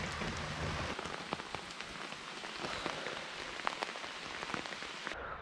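Rain falling outdoors in the Jura near a bridge, a dense steady patter of drops hitting surfaces, with scattered louder close splats throughout and no voices.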